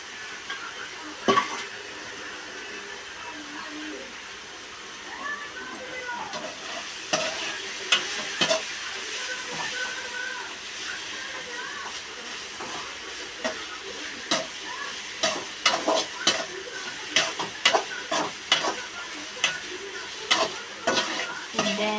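A tempering of ground spices fries in hot oil, a steady sizzle broken by repeated sharp clinks and scrapes of a spoon against the pan that grow busier toward the end.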